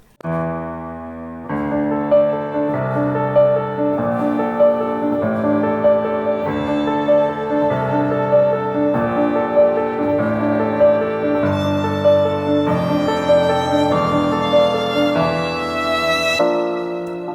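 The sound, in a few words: solo violin and string ensemble layers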